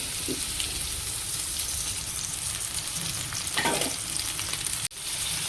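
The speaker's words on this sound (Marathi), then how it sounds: "मी फोडणी टाकत आहे आता" Steady crackling sizzle of spices hitting hot oil, loud and continuous, with a brief stirring scrape partway through and a sharp knock near the end.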